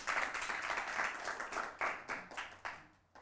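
Children clap for themselves after a general knowledge quiz at a scouts gathering, a short burst of scattered clapping that thins into separate claps as it dies away.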